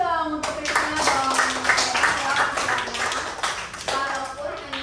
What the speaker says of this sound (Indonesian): tepuk tangan dong untuk Krisna dong.